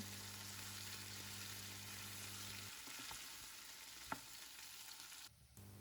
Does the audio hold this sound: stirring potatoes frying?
yes